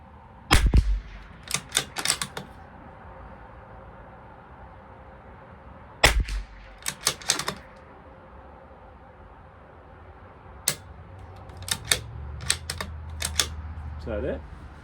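A rifle fires a series of sharp, close cracks in uneven clusters, some shots fired in quick succession, with quiet stretches between volleys and voices in the background.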